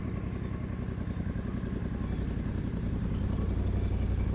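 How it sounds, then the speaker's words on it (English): A 2017 Triumph Bonneville T120 Cafe Racer's parallel-twin engine runs steadily at a low, throbbing idle, close and fairly loud, with a slight rise in throttle toward the end. "I'll give it a little bit of a flip of throttle in a second, just to get a little bit of temperature coming to the cylinders."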